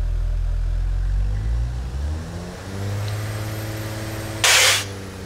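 A modern carburetored SUV engine in the BeamNG driving game idles low and steady, then climbs through a few revs with rising tone, ending in a brief loud burst; close and alone without talk.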